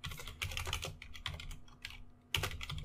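Bursts of typing on a computer keyboard, clustered key clicks in quick irregular runs with short pauses, close and fairly quiet over a steady low electrical hum.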